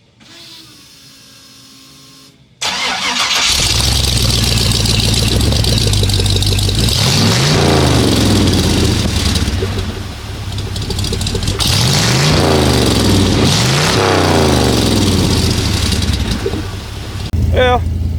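A 1972 Chevy C10 pickup with a newly fitted cheap exhaust and purple Hornies mufflers cranks over, fires up loudly, then settles into a rumbling idle with a few revs, close and dominant throughout.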